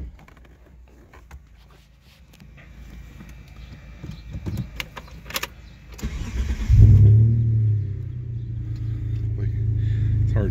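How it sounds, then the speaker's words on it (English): A 1995 Mitsubishi 3000GT engine cranks and catches with a loud rumble, then settles into a steady idle after some quiet handling noises. "let's go ahead and start the car"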